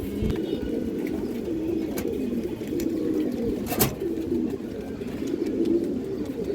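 Pigeon cooing on its own amid a soft continuous bed of similar coos, steady and fairly close, with a brief sharper sound near the middle; the bird is a domestic pigeon from a fancy breed market.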